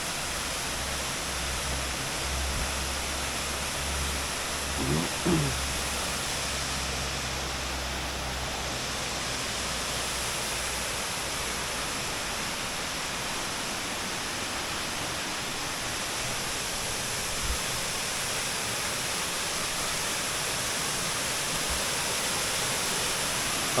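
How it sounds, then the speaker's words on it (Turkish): A small waterfall beside an old corn mill in the Sis Mountain area rushes as a steady, even wash of water, with a few faint knocks and a short tonal sound early on. "Burada da küçük bir şelale var."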